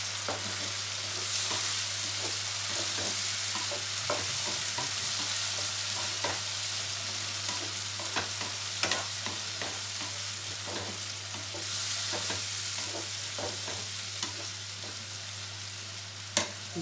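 Tomato paste fries in a pan with only a little oil while a spoon stirs it, giving a steady close sizzle broken by frequent scraping clicks and taps, with no voices.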